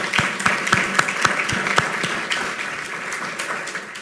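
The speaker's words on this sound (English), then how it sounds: "Let's give her a round of applause." An audience at the Cincinnati mayor's State of the City address applauds the interim police chief, a steady wash of clapping punctuated by a few sharp, close individual claps, softening toward the end.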